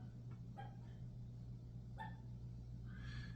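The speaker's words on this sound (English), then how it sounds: "The dog's barking." A dog barks a few times in the distance at home, short sharp yaps spaced out over three seconds above a steady low hum, faint and with no talk.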